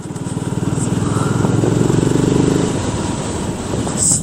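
BSA Gold Star motorcycle riding around town in fourth gear at about 30 mph, a loud close single-cylinder engine with a steady pulsing thump and wind noise, low voice talk under it.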